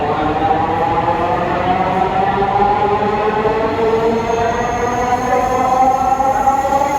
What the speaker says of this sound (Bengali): এই যে দেখতে পাচ্ছেন ট্রেনটি আবার চলেও যাচ্ছে